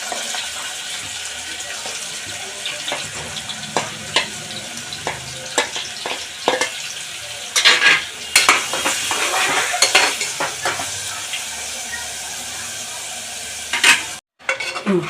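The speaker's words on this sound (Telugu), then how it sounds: "నూనె మూడు డొక్కులు వేసుకుంటారు ఉల్లిపాయ పచ్చిమిరపకాయ వేసుకుంటున్నాను" Onion and green chilli frying in oil in a pan for a coconut curry, crackling and sizzling steadily while a spoon repeatedly stirs and scrapes, with brief clinks of utensils and a short drop near the end.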